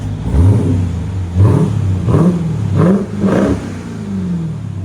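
Close, loud revving from a supercharged 6.2L V8 in a 2023 Dodge Durango Hellcat running straight pipes: a rapid series of about four throttle stabs, each swelling and dropping back to a throaty idle.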